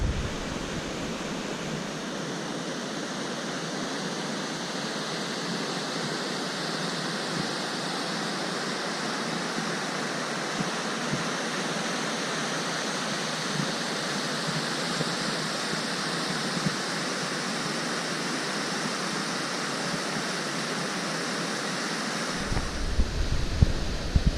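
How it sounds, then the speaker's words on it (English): Elbow Falls on the Elbow River in Kananaskis Country roars as a steady, broad rush of falling water, constant and enveloping with no pauses, some wind buffeting the microphone. "this is Elbow Falls along the Elbow River"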